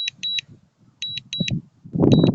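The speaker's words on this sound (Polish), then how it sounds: "To pikanie niestety chyba się nie da wyłączyć." Warning beeps from a DJI Mini 3 drone controller come in short repeated bursts of two-tone pips with pauses between them, while a voice mutters low underneath.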